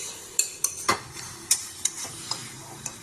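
Duck meat curry stirred and fried in oil in a pan, with a series of sharp spoon scrapes and clicks over a soft, steady sizzle.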